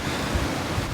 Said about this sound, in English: When the gusts come in, the whole tent's flexing pretty bad.